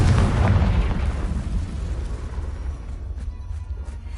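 A Confringo fire spell explodes in the Hogwarts Legacy video game: a loud, close boom that bursts at the start and trails off into a long rumbling decay, with no talk.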